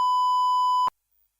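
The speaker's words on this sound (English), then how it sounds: "Like this sensor beep," A censor beep preset from the iTop Voicy voice changer sounds as a single pure steady tone lasting under a second, clear and loud, then stops sharply into silence.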